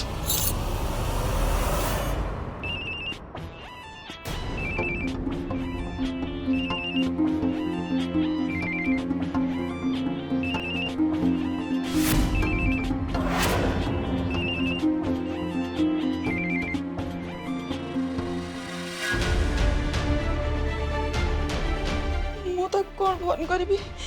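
A telephone rings repeatedly in a domestic scene from an Odia TV serial, the electronic ring repeating at regular intervals under dramatic background music.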